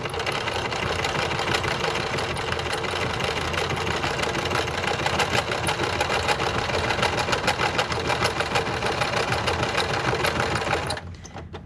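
A sewing machine runs steadily while stitching an elastic ear strap onto an N95 mask cover. It gives a dense, continuous rapid whir that holds for about eleven seconds and then stops abruptly.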